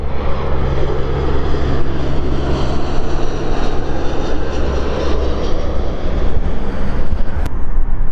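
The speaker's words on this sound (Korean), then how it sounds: "거의 3분에 한 대꼴로 비행기가 날아오네요." An airplane passes low overhead with a loud, steady engine roar that fills the whole stretch, joined by gusty wind buffeting the microphone.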